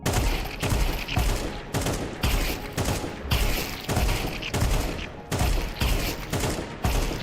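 Rapid rifle fire from the video game Counter-Strike rattles out in repeated loud bursts separated by brief pauses, close and dominant throughout with no talking.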